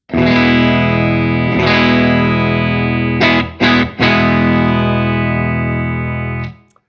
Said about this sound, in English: let's have a listen to my clean tone.